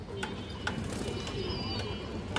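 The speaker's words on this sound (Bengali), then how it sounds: "এগুলো ইন্ডিয়ান হাই ফ্ল্যাগ কালদম দর্শক।" Indian high flyer Kaldom pigeons coo softly and steadily in a loft, with a few brief higher chirps over a continuous low murmur.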